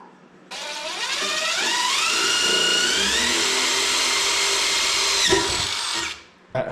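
A power drill boring holes for a backyard rope tow motor mount, its motor whining loud and close as it spins up, pitch rising and holding steady for several seconds before cutting off abruptly.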